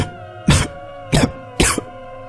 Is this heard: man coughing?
yes